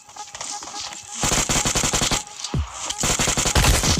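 Automatic gunfire in PUBG Mobile rattles out in loud, rapid bursts as a player shoots down a bot, with a brief pause between volleys and sharp close-range cracks; no speech.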